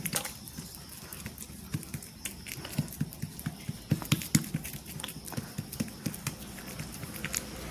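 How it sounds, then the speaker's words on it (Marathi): Cucumber thalipeeth dough is patted thin by a wet hand on a cloth, giving soft, quiet, rhythmic slaps that come in irregular bursts over faint background noise. "तर थोडा थोडा पाण्याचा हात लावून छान असं थालीपीठ पातळ थापून घ्यायचं"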